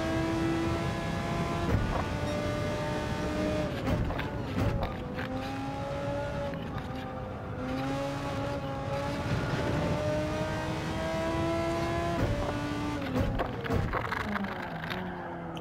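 Audi race car engine in Gran Turismo 7, a continuous tonal whine rising and falling as the car shifts through gears, with steady tire and road noise beneath.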